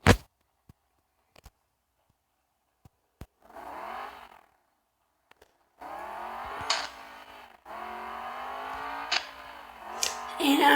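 Car engine in a driving video game revving up and settling as gears shift, in uneven bursts between stretches of near silence and short sharp clicks.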